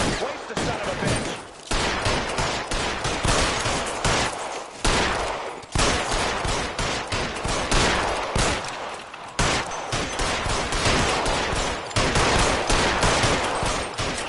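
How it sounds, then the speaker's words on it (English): Rapid bursts of gunfire from LA Noire during a rooftop shootout with a cornered suspect, with sharp repeated shots in dense volleys and brief gaps between them. The firing sounds loud and close. "Shooting."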